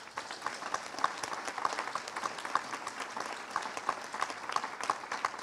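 An audience applauds at a conference on coastal fishing and the sailor's trade, steady dense clapping from a sizable crowd, moderately distant, with faint voices underneath.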